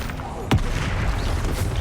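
The Bombarda spell from Hogwarts Legacy bursts with one sudden sharp blast partway through, set over steady low combat rumble and background game noise, with speech faintly present.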